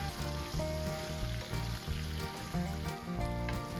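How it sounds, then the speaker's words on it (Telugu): Raw banana pieces fry in oil with cumin and mustard seeds, a steady dense sizzle with faint crackles running evenly throughout, close and fairly loud with no talking. "ఒక 1/2 స్పూన్ జీలకర్ర, ఒక 1/2 స్పూన్ ఆవాలు వేసి మనం ఈ యొక్క ముక్కలన్నిటిని కూడా బాగా వేపుకోవాలి"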